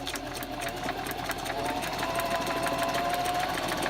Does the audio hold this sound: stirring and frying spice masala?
no